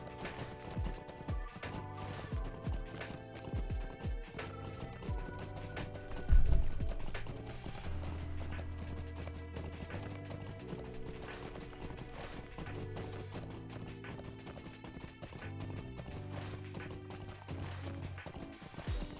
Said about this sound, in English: I'm going to go on my regular horse.